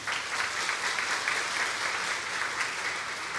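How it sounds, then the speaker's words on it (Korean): An audience claps for researchers during a company talk, a thick, steady applause of many hands at moderate loudness, continuous and uniform with no voices over it. "우리 연구원분들께 한번 박수 쳐드릴까요?"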